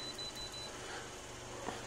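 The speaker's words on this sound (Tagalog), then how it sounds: "Naka-buzzer mode na yung multimeter natin." A multimeter set to continuity buzzer mode, used while repairing a Samsung UA40EH5000R LED TV with a no-power fault, gives a faint, high, thin beep in short repeated pulses over quiet room hiss.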